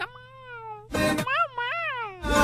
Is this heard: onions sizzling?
no